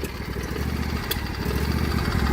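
A John Deere L118 lawn tractor engine with a new muffler runs loud and close, its rough, steady rumble climbing slightly as it revs, with no voices.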